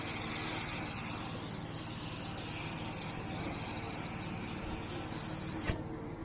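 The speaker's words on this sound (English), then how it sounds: "Spraying like a fire hose in here." Mo Flo pressure washer blasting water while cleaning house gutters, a loud, steady broadband hiss and spray roar held throughout with a low machine drone, ending in a brief knock as the spray cuts off.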